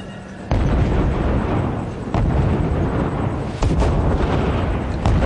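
Heavy gunfire and blasts from the Killzone 3 beta shooter game thump in repeated loud bursts, with dense battle noise filling the gaps between them.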